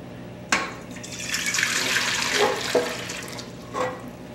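About three cups of 110-degree water is poured from a container into a stand mixer bowl for bread dough, a close splash and trickle lasting a few seconds, ending with a few small drips.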